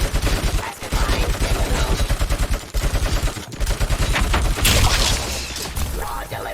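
A heavy machine gun in the RoboCop video game rattles out loud, rapid, rhythmic fire that carries on for several seconds with one short pause partway through.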